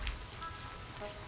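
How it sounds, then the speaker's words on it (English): Steady rain patters on a beach in the video game Ittle Dew 2, a soft even wash of drops heard alone for just over a second. "it's raining down"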